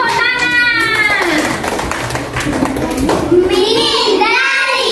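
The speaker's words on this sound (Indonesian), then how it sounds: "Tepuk tangan." A class of children claps hands together in a classroom, a loud, dense flurry of claps mixed with young voices shouting and talking.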